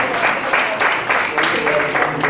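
A burst of loud audience applause, many hands clapping in dense waves close by.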